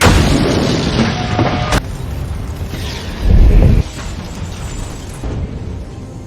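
A loud, low boom bursts out amid a rumbling background, a single heavy blast that thuds briefly before fading back into noise.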